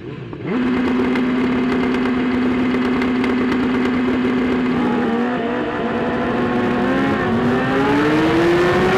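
A 2015 BMW S1000RR motorcycle fitted with a Hindle exhaust launches on launch control, its engine holding a steady loud high-revving drone before climbing in pitch as it accelerates away, close and continuous with no speech.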